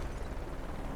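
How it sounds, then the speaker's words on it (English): A flashbang grenade detonating in a Counter-Strike: Global Offensive esports match, a loud, dense burst of broadband noise filling the whole short moment. "Flashbang. Grenade."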